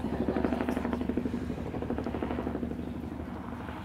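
A helicopter arrives with a steady, rapid rotor chop and engine drone, loud and fairly close, slowly fading slightly as it continues.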